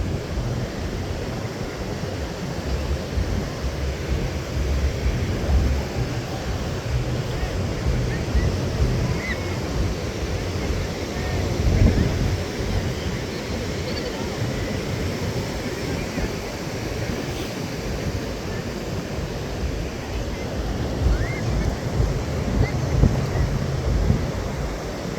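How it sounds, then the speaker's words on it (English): Strong north wind blows at a warm beach over continuous rushing surf, a dense steady roar with buffeting against the microphone, and people talk faintly now and then. "Yep, winds from the north. Blowing pretty hard."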